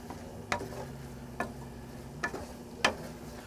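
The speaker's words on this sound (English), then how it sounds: "We're going to give all this a really good stir." A spoon stirs garlic powder, pepper, thyme and cayenne in a pot for shrimp and sausage pastalaya, giving four separate soft scrapes against a faint, quiet simmer.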